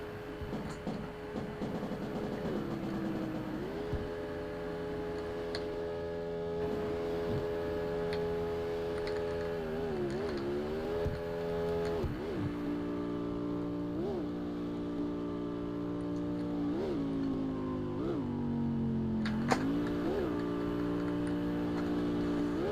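A video-game car engine holds steady tonal drones that rise and fall through repeated revs, moderate and continuous for over twenty seconds with no talk.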